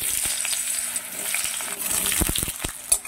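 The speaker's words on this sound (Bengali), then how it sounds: "শুরুতেই আলুগুলো ভালো করে ভেজে নেব" Potatoes sizzle steadily in hot white oil in a kadai, a continuous crackling hiss with occasional clicks and scrapes of a utensil near the end.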